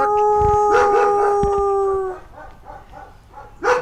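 A dog howls in long drawn-out tones with yips mixed in, then several shorter yelping barks follow and a final loud yelp, close by.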